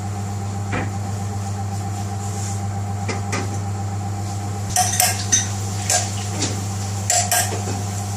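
A lid goes onto a pot of rice on the cooker, with a few metallic clanks and rattles over a steady low hum, the loudest knocks clustering in the second half.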